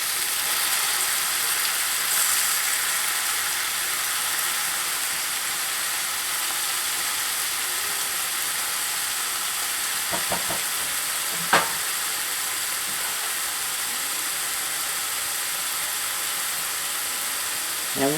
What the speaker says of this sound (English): So we're going to let that simmer for a few minutes.